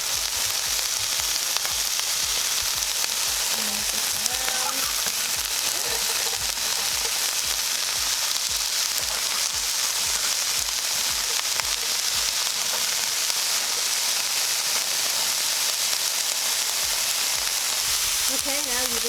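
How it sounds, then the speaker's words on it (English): Asparagus and other vegetables such as peppers and kale sautéing in a pan for a vegan meal, giving a steady loud broadband sizzle throughout with occasional faint clinks, and no talk over it. "Okay, now that that is cooking up, you wanna grab your asparagus, throw it on top."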